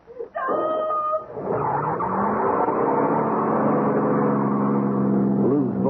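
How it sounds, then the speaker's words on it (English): Car engine roaring as a radio drama sound effect, with a squeal at the start, then a loud, steady, rising engine drone that carries on to the end. "Lou's voice was gone, drowned by the roar of the engine"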